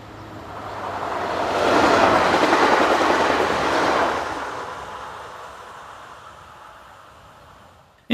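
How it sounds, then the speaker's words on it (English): A French bimode multiple unit running on diesel power departs, its engine and wheel clatter building to a loud peak as it passes close by, then fading steadily into the distance. "Bimode unit number 81560 is on diesel power as it heads away from Chalon"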